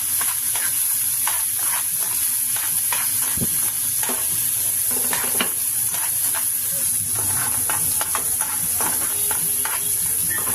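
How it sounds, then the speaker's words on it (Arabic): Offal stir-fried in hot ghee in a pan on Eid morning, with a constant bright sizzle and frequent sharp scraping stirs of a spoon, close and loud throughout, no speech. "كده اديتها تشويحه حلوه كده مع معلقه السمنه"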